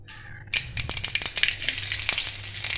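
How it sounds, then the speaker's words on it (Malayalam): Mustard seeds, onion and curry leaves hit hot oil with a sudden loud burst of sizzling and crackling, continuous frying with sharp popping seeds throughout, close and without talk. "എന്നിട്ട് അല്പം കടുകും ഉള്ളിയും കറിവേപ്പിലയും കൂടെ ഒന്ന് താളിക്കാം"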